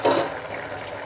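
Peas, carrot and beans bubble in a pot as a lid comes off, a brief hissy burst settling into a steady, loud simmering rush.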